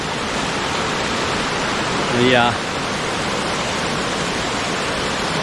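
Steady, full roar of a waterfall on a Thai farm, a dense unbroken rush of water close by, with a brief spoken word rising over it midway.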